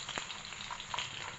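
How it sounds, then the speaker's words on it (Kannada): Tempering spices splutter in hot oil on a gas stove, a faint, brief crackling sizzle with a few small pops, heard alone. "ಮತ್ತೆ ಚಟಪಟ ಅಂತ ಸಿಡ್ಬಿಟ್ಟು ನೋಡಿ ಚಿಕ್ಕದಾಗೆಲ್ಲ ಹೆಂಗೆ ಸಿಡಿದಿದೆ"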